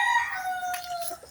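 A rooster crows once, a loud, drawn-out call close by, trailing off after about a second.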